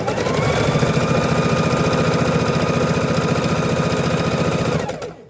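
Sewing machine stitching quilting fabric a quarter inch from the point for half square triangles, a steady, fast mechanical whir with rapid needle rhythm running continuously, close and loud, then stopping near the end.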